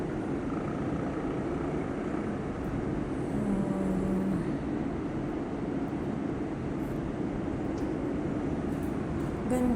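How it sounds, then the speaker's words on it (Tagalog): A steady low rumble of passing LRT and MRT trains, continuous and fairly even throughout, heard from some distance amid general outdoor noise. "tanaw mo talaga yung LRT, MRT na dumadaan."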